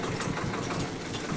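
A tractor engine runs at a steady idle, its low, even rumble filling the short stretch without a break and with no talking over it.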